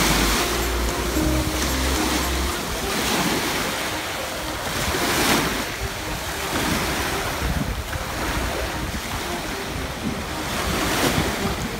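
Surf rolls onto a beach beside a hotel in Antalya, Turkey, in October: continuous loud washing waves with gusty wind buffeting the microphone and no talk.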